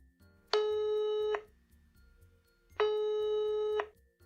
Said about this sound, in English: Tom's phone rang.